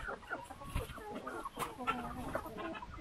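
Chickens cluck and murmur close by in a busy, uneven chatter, with a Cochin rooster among them; no talking.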